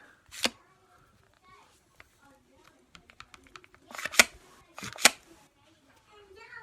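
Bolt of a Well MB01 L96 airsoft sniper rifle fitted with a tune-up kit is pulled back and cocked. Sharp mechanical clacks and metallic clicks come close up, with a few loud snaps near the end and no talking.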